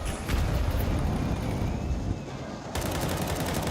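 Dense, continuous automatic gunfire during a competitive Counter-Strike match at IEM Rio, loud and rapid with a brief dip before resuming.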